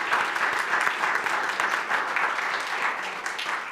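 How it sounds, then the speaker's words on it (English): Steady applause from an audience thanking presenters at a science communication event, dense and even clapping holding throughout at a constant level. "So big applause for you"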